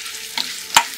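Chopped garlic stirred and fried in a pan, a soft sizzle under a couple of quick spatula scrapes, one sharp clack near the end.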